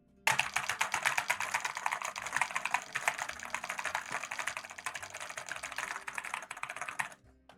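Rapid, steady typing on a computer keyboard, dense clattering keystrokes running continuously for about seven seconds at close range, with no voices.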